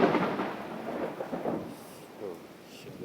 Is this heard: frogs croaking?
no